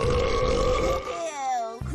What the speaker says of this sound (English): This movie opens up with a burp-off